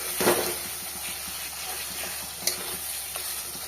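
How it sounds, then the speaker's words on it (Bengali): Spice paste sizzling steadily in a pan as a little water is added, with a soft continuous hiss, a few sharp stirring scrapes and small spatters, no talking. "মশলাটা এবার আস্তে আস্তে ভালো মতন কষিয়ে নেব"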